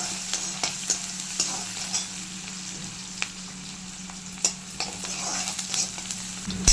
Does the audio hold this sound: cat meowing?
no